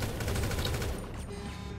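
Cannon fire from a Grand Theft Auto heist mission comes as a dense, loud burst of rapid gunfire-like blasts that cuts off abruptly after about a second.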